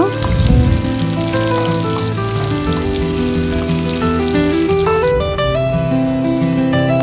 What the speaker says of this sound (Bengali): প্রথমেই কড়াইয়ে তেল দিয়ে দিলাম রসুন আর পেঁয়াজটাকে ভালো করে ভেজে নিচ্ছেন